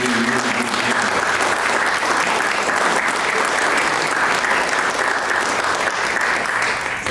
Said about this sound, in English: Let's give a round of applause for these senior candidates.